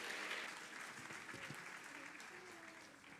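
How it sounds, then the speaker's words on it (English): Applause from an audience at an international youth peace summit, a steady, moderately distant spatter of clapping that fades gradually over about three seconds, with faint voices mixed in beneath. "Let's have another round of applause for that incredibly scintillating performance."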